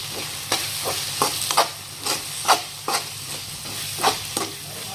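Mushroom masala sizzles in a pan with chilli powder mixed in, while a spoon scrapes and stirs it in irregular clacking strokes over a steady frying hiss, close and moderately quiet.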